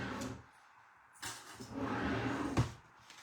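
A cupboard or drawer is handled while small clips are put away during a scrapbooking session, with a few quiet wooden knocks and slides spaced over a few seconds and no talking.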